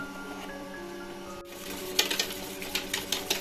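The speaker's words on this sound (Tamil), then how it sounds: "இப்போ 2 முட்டையை மட்டும் அடிச்சுட்டு அவனுக்கு வந்து பாம்பே டோஸ்ட்டு" Two eggs whisked in a bowl for Bombay toast, a run of quick, light rhythmic clicks and taps starting partway through, close by over a steady low electrical hum.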